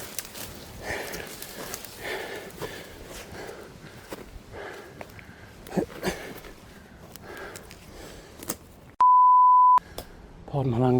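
A loud, steady censor bleep tone about a second long cuts into breathy, scuffing movement on a slippery, crumbling path, then the footsteps and rustle resume.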